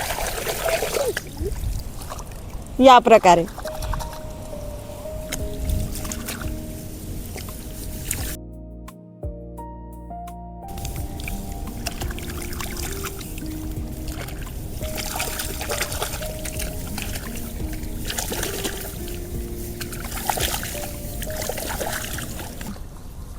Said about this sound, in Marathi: रोपं अशी खणून घेताना त्याला लागलेली माती पाण्यात धुवून घ्यायची,